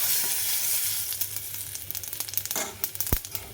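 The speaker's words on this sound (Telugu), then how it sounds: "ఉల్లిపాయలు వేయాలి వేగాలి ఆవాలు జీలకర్ర ఇంకా పసుపు వేసి కొంచెం బాగా కలపాలి" Onions fry in ghee with mustard seeds, cumin and turmeric: a strong sizzle fades into scattered sharp pops and crackles, with one loud knock near the end.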